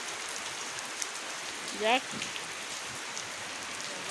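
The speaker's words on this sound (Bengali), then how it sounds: "এই প্রচন্ড বৃষ্টি আবার কিছুক্ষণ হয়, হওয়ার পরে আবার থামে, থামার পরে আবার নামে।" Heavy rain falling, a steady broad wash of downpour throughout, with a single brief spoken word in the middle.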